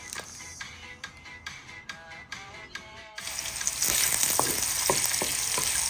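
Garlic sautéing in olive oil for vegetable lumpia filling: after a quieter opening with faint tonal background and a few clicks, a loud, dense sizzle bursts in and holds steady, with occasional sharp crackles and stirring taps.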